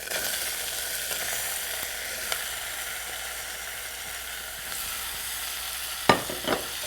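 Tomatoes hitting a hot pan with dried red chilies and fresh ginger, giving a steady soft sizzle with a couple of sharper clatters near the end as they are stirred.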